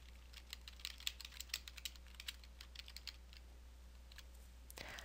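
Quiet, close typing on a computer keyboard, a burst of irregular key clicks with short pauses and a final couple of taps, over a faint steady hum.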